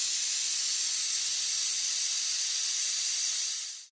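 A pressure cooker holding meat curry with potatoes vents a loud, steady, high-pitched jet of steam that runs unbroken for several seconds before cutting off abruptly, with no one speaking.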